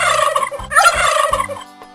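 A turkey gobbles in a loud, rapid, warbling burst of repeated gobbles, heard alone and close.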